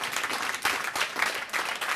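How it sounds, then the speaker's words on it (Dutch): Steady applause from a studio audience on a music program, dense and continuous throughout, fairly close and without talk over it. "ik wil nu al een applaus"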